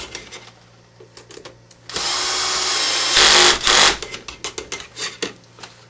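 A handheld power drill drives screws into an HPI Baja SS radio-controlled car, with two loud, close whirring bursts of a couple of seconds each between quieter handling and tapping noises.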